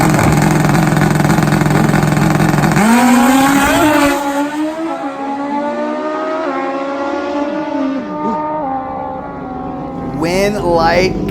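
Kawasaki and carbon-fiber Suzuki nitrous and turbo drag bikes launching in an index race, engines roaring loud and close, then rising in pitch as they pull away with steady high-revving howls that briefly return near the end.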